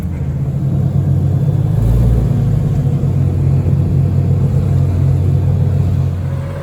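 A Mk3 Toyota Supra's turbocharged 2JZ-GTE engine runs steadily on a dyno, a loud, close, continuous low rumble with a brief swell of revs near the two-second mark and no voices.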